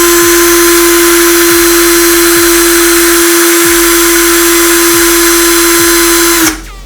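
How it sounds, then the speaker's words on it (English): A power drill spins steadily to straighten 26 gauge wire for fused Clapton coils, giving a loud, continuous whirring whine close by for about six and a half seconds before cutting off abruptly. "I'm just going to give the drill a fire for a few seconds."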